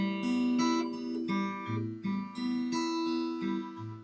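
Guitar plucking low open strings one at a time in a slow, steady pattern, each note ringing briefly, close and alone.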